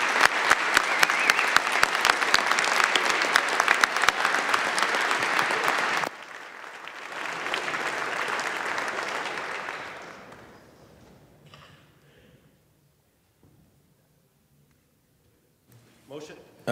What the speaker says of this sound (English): Let's give Allie a round of applause.